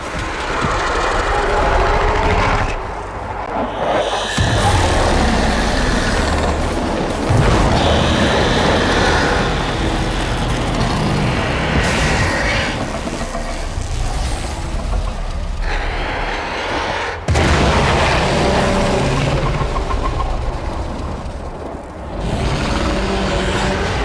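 A Warframe quest explosion booms loud and sustained, its deep rumble carrying continuous debris and mechanical noise with a few sharp drops and swells.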